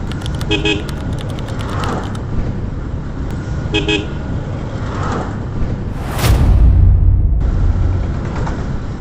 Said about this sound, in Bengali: সাইকেলগুলো পার হওয়ার সময় একটু হর্ন দিয়ে নেবেন।